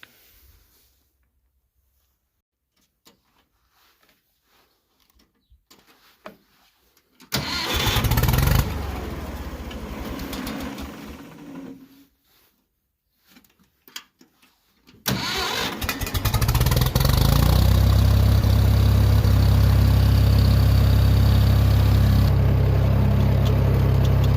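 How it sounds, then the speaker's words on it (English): A tractor engine cranks and catches twice, sputtering briefly the first time, then settling into a loud, steady, low idle that runs to the end. "So I guess I need to get my tractor out"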